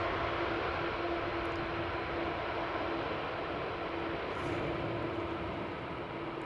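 An airliner landing at Amsterdam Schiphol Airport, a steady broad engine roar with a faint hum, moderately distant and unchanging throughout, with no voices.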